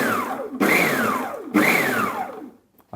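An electric blender briefly blitzes an apple tart filling mixture: two loud close bursts, each with a motor whine that rises and falls in pitch, then the motor cuts out to near silence.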